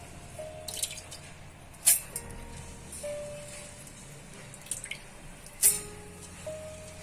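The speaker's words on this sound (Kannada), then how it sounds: "ಈಗ ನೋಡಿ ವೀಕ್ಷಕರೇ, ಸ್ವಲ್ಪ ನೀರು ಸೇರಿಸ್ತಾ ಇದ್ದೇನೆ." Water is trickled into rice flour in a mixer jar for a dosa batter, giving a few soft, separate drips and splashes against a quiet background.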